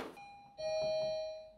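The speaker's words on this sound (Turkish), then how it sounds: "Aa, zil çaldı." A doorbell rings with two clear tones, a ding followed by a longer, sustained dong that slowly fades, heard close and alone in a quiet room.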